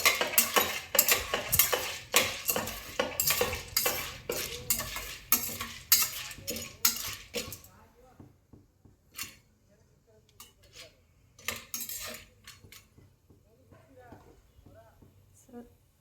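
A utensil stirring turmeric into food in a cooking pot, quick rhythmic scraping and clinking for several seconds, then slowing to sparse taps and light sizzling.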